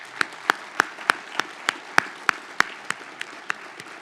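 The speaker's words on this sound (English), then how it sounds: "I'd like just a quick round of applause for Caitlin and all the admin staff" A small audience at a family medicine residency graduation claps for a few seconds, with sparse, evenly spaced individual claps that stand out clearly and fade slightly toward the end.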